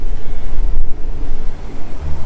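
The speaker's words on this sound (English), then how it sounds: "A little windy today." Steady wind blows across an open marsh boardwalk at Murrells Inlet, South Carolina, buffeting the microphone with a loud low rumble that gusts and swells throughout, with no voices.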